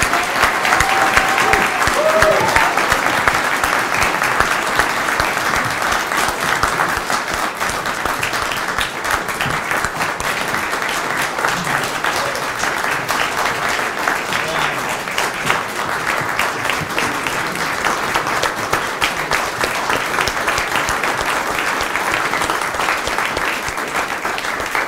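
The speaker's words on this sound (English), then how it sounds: "let's give our second lieutenants one final round of applause" A long, loud round of applause at an Air Force ROTC commissioning ceremony honors newly commissioned second lieutenants, with steady, dense clapping from a large crowd and faint voices mixed in.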